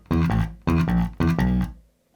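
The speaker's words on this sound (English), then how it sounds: "So we end up with this chromatic run." A chromatic run played on bass guitar in a rock style, heard as three loud, close, slightly distorted note groups with a sustained tail fading out at the end.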